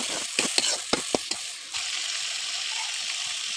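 Chicken meat dropped into frying spice paste and stirred, with sharp clattering bursts of spoon and pieces over a steady close sizzle that continues alone afterward.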